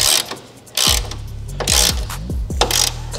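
Ratchet tightening the coilover top nut on a 2022 Subaru WRX, working up to 110 foot-pounds: loud, close bursts of rapid pawl clicking in several strokes separated by short pauses, with no talk.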